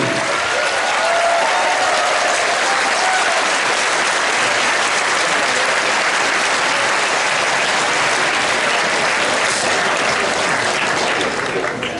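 Dense, steady applause fills a large room throughout, loud and continuous, as an audience at the Confuzzled 2014 furry convention opening ceremony applauds the Hilton hotel staff.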